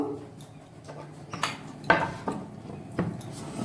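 A knife slices through two onions on a cutting board in a home kitchen during Bengali mutton curry prep, giving a few sparse, light chopping taps and clicks, fairly close and quiet, with no talking.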